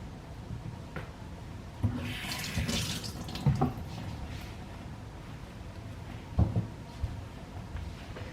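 Tap water runs into a container to cover eggs for soy-marinated eggs, a steady close gush with a few clinks and knocks partway through.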